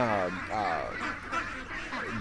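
Domestic ducks quacking and honking near a doorway, several harsh nasal calls in quick succession, loud and close, with a person talking over them.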